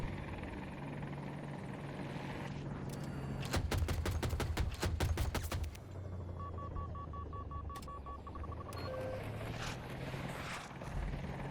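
Attack helicopter rotor drones in Battlefield 2042 while its cannon fires a rapid burst of loud, evenly spaced shots, followed by beeping lock-on warning tones over the engine hum.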